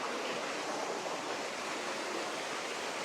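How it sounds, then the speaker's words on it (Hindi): Steady, dense roar of a waterfall heard from close to its base in a jungle setting, a continuous broadband rush with no pauses. "ये है जी वाटरफॉल।"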